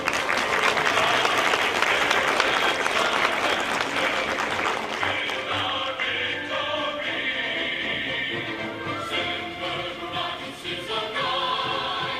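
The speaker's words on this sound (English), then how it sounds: "Clap." Audience applause at a county veterans program honoring a Coast Guard veteran, a full, sustained round of clapping from a large crowd that holds steady and then thins slightly toward the end, with faint background murmur.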